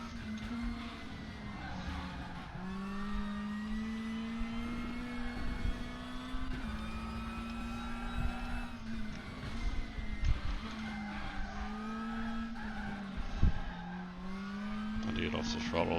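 Lada race car in WTCC 13 sim racing at Moscow Raceway, engine droning steadily with pitch shifts through gear changes over a full lap, occasional faint tire squeal and skidding underneath, with someone talking over it.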